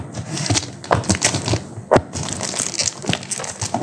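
Tightly sealed packaging of a pedicure set being torn and worked open up close, a run of irregular crinkling, crunching rips and sharp snaps.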